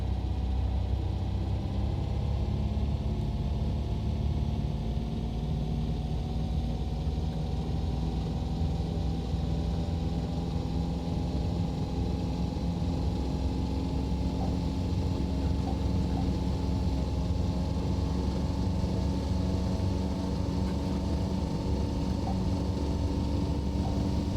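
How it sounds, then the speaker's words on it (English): Piston engine of a Rand Robinson KR-2S experimental light aircraft in the X-Plane 12 flight simulator, running up for takeoff: a steady close drone whose pitch rises slowly over the whole stretch, with no talk. "We're going to advance the throttle gradually to 2900 RPM."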